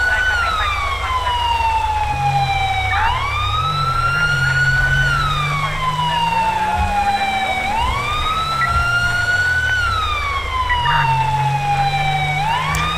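Police sirens in GTA V wail in long rising and falling sweeps over a constant engine and traffic rumble during an LSPDFR pursuit, loud and continuous throughout.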